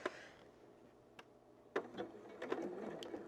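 A sewing machine stitches quilting squares together for a mini pillow, giving short, quiet bursts of mechanical whirring and clicks at close range with no talk.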